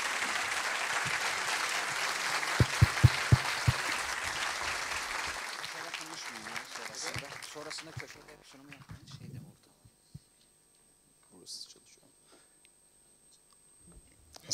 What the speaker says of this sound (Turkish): kuvvetli alkışlarınıza sahneye davet ediyorum